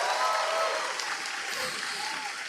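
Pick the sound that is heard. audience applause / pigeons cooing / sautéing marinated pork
audience applause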